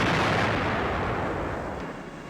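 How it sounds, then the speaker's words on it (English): A depth bomb dropped by a convoy hunting submarines goes off in one heavy, booming blast that rumbles and slowly fades away. "A depth bomb."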